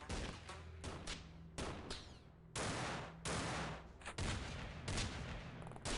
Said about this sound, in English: He just fired a machine gun into melee.